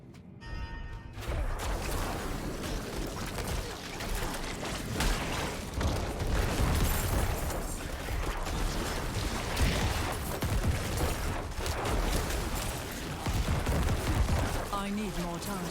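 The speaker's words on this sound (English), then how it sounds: "Corpse explosion is so good." Diablo 4 Necromancer gameplay in which the corpse explosion spell sets off a rapid, dense run of booms and crashing blasts that continues for much of the stretch alongside other combat noise.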